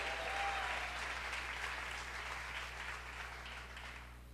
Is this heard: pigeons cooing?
no